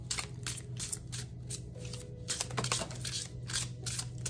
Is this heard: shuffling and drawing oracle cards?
yes